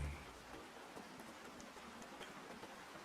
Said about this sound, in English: Outside, the rain continues its endless rhythm.